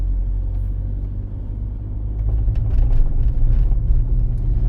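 A car drives steadily through a town during a practical driving exam in Korosten, Ukraine, with a continuous low engine and road rumble that swells slightly as it moves ahead.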